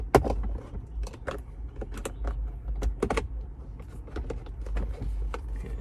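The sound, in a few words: prying off plastic lid with pry tool, Silverado console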